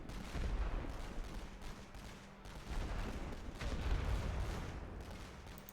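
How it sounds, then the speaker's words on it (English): Small arms fire in the WWI strategy game The Great War: Western Front, German Empire campaign: a dense, continuous rattle of rifle and machine-gun shots with distant booms, steady and moderately loud throughout. "Yeah, here comes the small arms fire now"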